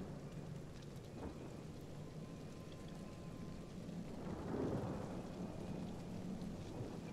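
A rainy thunderstorm in the video game Divinity Original Sin: a steady hiss of rain runs throughout, and a deep rumble of thunder swells about halfway through before settling back under the downpour.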